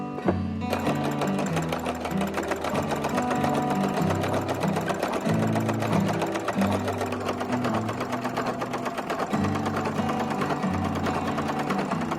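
A sewing machine fitted with a ruffler presser foot gathering fabric for a tiered maxi skirt, running in a fast, steady mechanical rattle with rhythmic thumping, close and continuous, with brief changes in pace.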